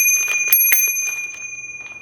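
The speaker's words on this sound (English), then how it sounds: "The little 3-way comes with a snazzy bell." Bicycle bell on a Juiced RipCurrent S e-bike rung outdoors, giving a few quick bright dings with a sustained metallic ring that lingers and slowly fades, close and fairly loud.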